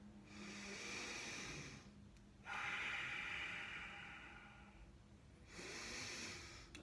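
Deep, slow breathing during a yoga warm-up, with long hissy inhales and exhales close to the microphone that come in three sustained waves with no talking.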